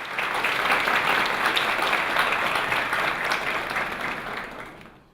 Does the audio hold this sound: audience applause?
yes